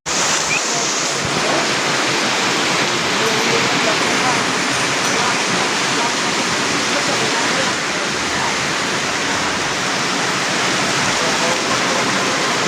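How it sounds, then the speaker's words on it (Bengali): Heavy rain pours down in a dense, steady roar with gusts of wind buffeting the microphone, loud and unbroken from start to finish. "ও মাই গড, বৃষ্টি জোরে যায়"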